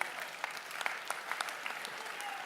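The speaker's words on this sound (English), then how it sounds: "Give her a round of applause for helping me." Brief, faint applause from an audience at a mind reading stage show, light scattered clapping that sounds fairly distant.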